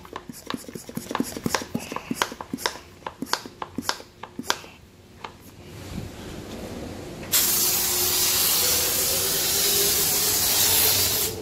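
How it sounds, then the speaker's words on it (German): Car wash foam sprays from a pump sprayer fitted with an extra filter insert in a self-service wash bay. Sharp clicks and short squirts come first, then a loud, continuous close-up hiss of foam that runs steadily to the end. "ein richtig schöner Schaum, der hier rauskommt durch den zusätzlichen Filtereinsatz"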